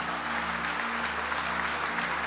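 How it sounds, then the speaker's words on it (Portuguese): A church congregation at a Portuguese-language service applauds a couple, a steady wash of many hands clapping at moderate level with a low background hum. "Vamos aplaudir o Senhor para esse casal abençoado ali."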